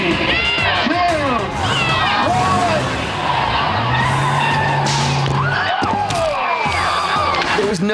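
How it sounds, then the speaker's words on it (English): A race car launching and skidding down a track while dragging a handcuffed stunt performer, tires screeching in long rising and falling squeals over a loud, continuous engine roar, with a crowd and voices audible in the background. "There was no time in between when the stunt was supposed to start and the car took off."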